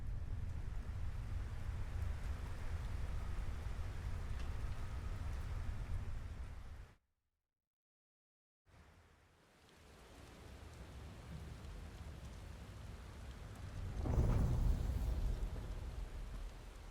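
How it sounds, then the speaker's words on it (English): Steady rain hisses through the soundscape of the video game Final Fantasy XVI, quiet and even. It cuts out briefly to silence, then returns and swells a little louder with a low rumble. "Is that rain?"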